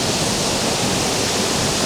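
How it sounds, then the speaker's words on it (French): Large waterfall at the foot of the Cirque de Saint-Même, a loud, steady broadband roar of falling water filling the whole clip, close and continuous with no voices. "on est au pied de la grande cascade"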